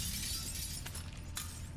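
Window glass shatters in the sci-fi horror video game The Callisto Protocol, two sharp breaking bursts over a steady, loud low rumble of game ambience.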